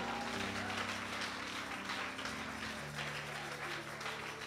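A church congregation applauds to acclaim the Lord, a steady wash of many hands clapping at moderate distance, with a sustained musical tone underneath.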